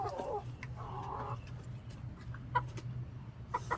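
Chickens cluck and murmur softly nearby, with scattered short clucks over a low steady background hum.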